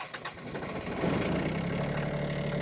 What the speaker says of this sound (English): right off the bat, the engine's a little quieter